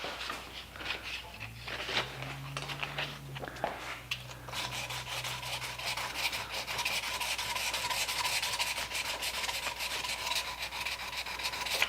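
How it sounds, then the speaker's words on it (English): A wooden handle is hand-sanded by working the leading edge of the abrasive into faceted areas. The rubbing comes as quiet, close, rasping strokes, at first intermittent and then steadier and continuous, with a faint low hum underneath. "So when I sand, I'm really using this leading edge here more than anything."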